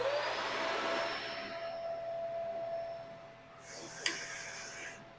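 A vacuum hooked to the dust boot of an Ultimate Bee CNC machine runs with a steady, fairly quiet broadband roar that eases slightly before a single sharp clank near the end.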